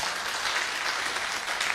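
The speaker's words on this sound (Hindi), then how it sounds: "एक बार मैं चाहूंगा इस वृक्ष के लिए जोरदार ताली बजा दीजिए।" Audience at a talk clapping in a brief, steady burst of applause, fairly soft and somewhat distant, with no voices over it.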